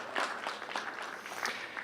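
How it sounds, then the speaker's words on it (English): A small group claps briefly at a retail business summit presentation, a short burst of scattered, fairly faint hand claps with no talking. "Yeah, some clapping, I like it."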